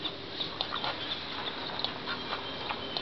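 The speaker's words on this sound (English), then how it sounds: "Ducks and puppies." Ducks quack in a pen with puppies, giving a run of short, fairly soft, repeated calls spread across the stretch over a constant background hiss, with no speech.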